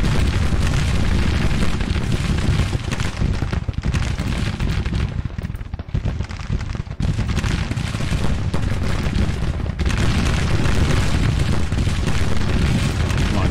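Civil War battle in the strategy game Grand Tactician, with dense continuous rumbling gunfire and booming artillery volleys, loud and unbroken, briefly thinning midway before swelling again.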